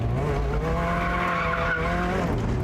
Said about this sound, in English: We're gonna try to just drift both these turns.